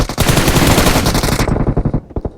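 Rapid automatic gunfire in a first-person shooter video game, a loud close burst of fast repeated shots that cuts off, followed by a few scattered single shots.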